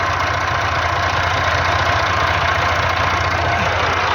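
A Tractor 135 engine labours at a loud, constant drone while stuck hauling soil, with a steady throbbing low rumble and no voices.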